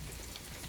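Steady rain falls on a windless day at Gilsangsa temple, a soft, even hiss of drops heard close by with no voices.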